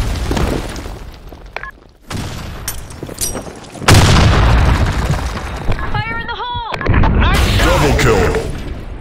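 An explosive detonates in a video game with heavy, dense booms and bursts of gunfire-like crackle, loud and close throughout, with whistling, warbling effects near the end.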